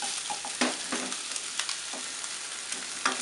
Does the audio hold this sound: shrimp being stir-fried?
yes